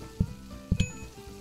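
Food deep frying in the PlateUp cooking game: a steady hiss of sizzling with a few soft low thumps and a brief bright clink near the middle, fairly quiet and with no talk.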